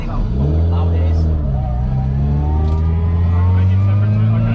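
A Mk1 Mini Cooper S engine drones loudly from inside the car while driving, its pitch climbing and shifting through gears, with people talking over the constant engine noise.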